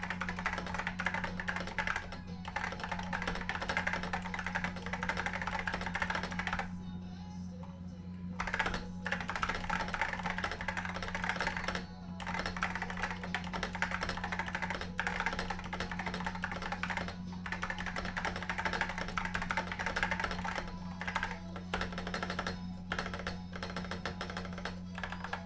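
Typing on an IBM Pingmaster 4707 keyboard, a quiet, fast run of clicky keystrokes that goes on with brief pauses, over a steady low electrical hum, with a little speech now and then.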